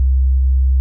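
A pure, steady sine tone from the Operator synthesizer in Ableton Live holds at one low pitch for just under a second, loud and clean, with nothing else present.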